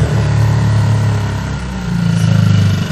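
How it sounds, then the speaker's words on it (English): A boat's engine idles loudly nearby, a steady low throbbing drone that dips briefly midway before settling back into its rumble. "How do you stop the engine? Really loud."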